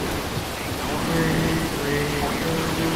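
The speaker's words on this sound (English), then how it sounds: "We're entering rain." Steady rain hiss on the surface of a moving vehicle while chasing tornadoes in daytime, broadband and constant throughout, with faint tonal hum and no clear speech.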